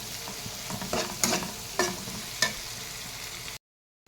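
A spoon stirs turmeric into lemon rice seasoning in a hot pan, with a low sizzle and several distinct scraping strokes before the sound cuts out.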